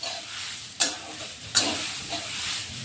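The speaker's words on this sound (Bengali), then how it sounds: "এটাকে ভালোভাবে নেড়ে ভেজে তারপরে নামাবো" Pointed gourd with chopped green chillies frying in a pan for a Bengali dish, giving a steady close sizzle while a spatula stirs, with two sharper scraping strokes standing out.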